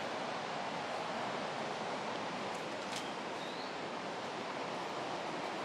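A river in Ecuador's Amazon rushes in a constant, even wash of broadband water noise, loud and unbroken throughout, with a faint bird call briefly rising above it.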